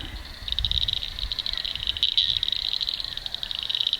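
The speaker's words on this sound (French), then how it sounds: "les crapauds ils font des bruits différents" Toads and insects calling in a forest near Manjimup, Australia, a steady high pulsing trill that runs continuously, with low rustling and rumble underneath.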